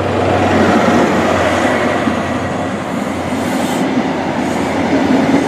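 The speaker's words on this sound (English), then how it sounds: "Okay, passing through now, another HST." A GWR HST passenger train, with a diesel power car, rushes through a station with a steady loud roar and rattling wheels, close by and without talk.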